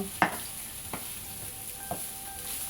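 Chopped onion and shallot fry with a continuous sizzle as a spoon stirs them, three distinct knocks against the pan spaced about a second apart, close and with no one speaking.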